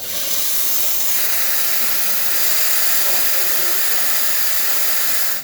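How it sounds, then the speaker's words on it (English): Loud, steady steam hiss from a VBM espresso machine's steam wand after a full tune-up, continuous and close, with a slight shift in tone midway. "Now we're going to test the steam function"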